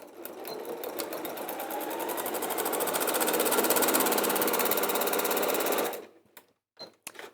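A sewing machine sews straight across the seams of a bag, its motor whir ramping up to a fast, steady buzz, then stopping abruptly, followed by a few faint clicks and handling sounds.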